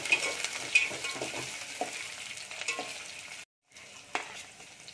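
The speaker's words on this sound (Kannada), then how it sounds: "ಇದೊಂಚೂರು ಹಾಕೊಂಡು ಫ್ರೈ ಮಾಡ್ಕೋಬೇಕು." Green peas fry in a pan for vegetable pulao, a soft, close sizzle with light stirring scrapes and clinks, briefly cutting out before resuming, with no speech.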